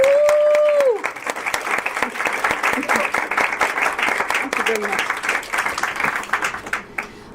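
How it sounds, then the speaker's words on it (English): An audience applauds after a speech on African rights, a full, sustained round of many hands clapping that follows a brief voice and fades toward the end. "I think we need another round of applause."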